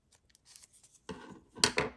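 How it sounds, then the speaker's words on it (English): Scissors snipping paper while fussy-cutting craft paper for an Easter treat box, a few quiet crisp snips followed by two louder close cuts. "So you can fussy cut your stuff."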